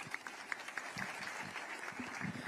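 Applause from an audience at an official event for healthcare interns, a faint, steady patter of clapping from a distance that runs through the whole moment.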